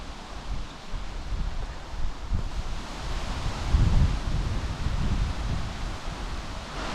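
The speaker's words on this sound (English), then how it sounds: "it's still kind of windy" Steady wind blows and buffets the microphone in the Ontario woods, a continuous rushing roar with gusts swelling and easing throughout.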